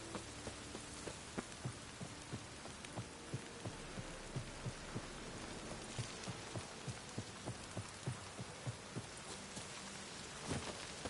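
Steady rain in the video game The Witcher 3: Wild Hunt hisses across the whole stretch, with soft rhythmic thumps pulsing underneath and no voices.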